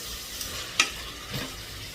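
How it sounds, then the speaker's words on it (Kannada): Soft scraping of a spoon stirring thick tomato masala in a pan for mushroom biryani, with a faint sizzle and a sharp clink partway through; no voices. "ಅದನ್ನು ಸ್ವಲ್ಪ ಚೆನ್ನಾಗಿ ಮಿಕ್ಸ್ ಮಾಡ್ಕೊಳ್ಳೋಣ ಚೆನ್ನಾಗಿ ಒಂದು ಐದು ನಿಮಿಷ ಟೊಮೊಟೊ ಬೆಂದು ಬರಲಿ"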